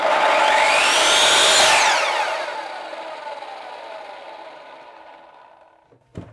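An Evolution R300DCT+ electric disc cutter screams at full speed, then its whine drops in pitch and fades as the disc spins down quickly, ending in a faint clunk.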